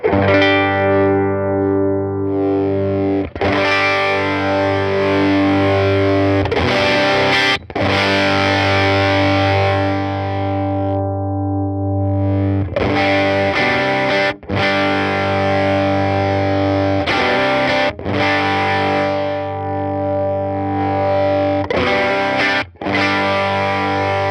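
An electric guitar through a Universal Audio UAFX Woodrow '55 amplifier, blending mic and instrument inputs, rings out heavily distorted sustained chords with effects, loud and thick, broken by a few brief sharp cuts between strums.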